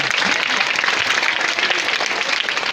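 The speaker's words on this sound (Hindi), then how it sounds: "तालियां इसके लिए" An audience claps steadily for a child at a biscuit-eating contest, a dense, continuous burst of hands clapping close by, with a few faint voices mixed into the sound.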